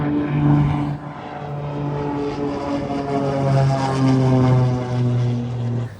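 A propeller airplane taking off and flying out from a remote Alaska airstrip, its droning engine and prop tone loud and close, holding steady with slight swells in pitch over several seconds.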